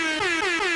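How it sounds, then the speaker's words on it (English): A loud, sustained air horn blares continuously for under a second, its steady tone dipping slightly in short regular pulses, with no talk over it. "don't like the air horn"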